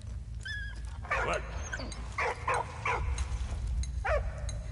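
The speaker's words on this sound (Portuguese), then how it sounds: "Tá aí, cachorro." Dog barks and whimpers from the World War I video game Valiant Hearts, a few short yelps spaced over steady game music and ambience.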